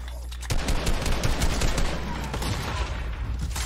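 Rapid gunfire from The Incredibles video game, dense overlapping shots rattling on steadily and loudly for several seconds.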